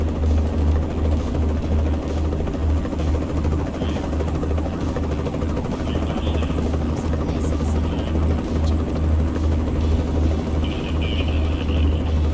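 Helicopter in American Truck Simulator, a loud, continuous low rotor thump and engine drone holding steady throughout, with faint higher road and cab noise underneath.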